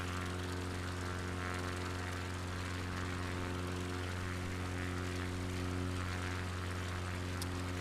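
A propeller airplane engine in a flight simulator drones steadily and loudly with a strong, even hum through the whole stretch, flying a bush trip over the Apennines from Preturo to Celano.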